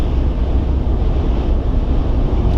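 Strong wind buffets the microphone at sea off the tip of Newfoundland, a steady, loud roar with low rumble and no break, alone without talk.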